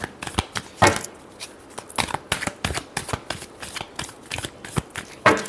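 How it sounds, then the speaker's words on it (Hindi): A deck of tarot cards being shuffled by hand, a close series of crisp riffling bursts and slaps in an uneven rhythm, with no voices. "Last shuffle."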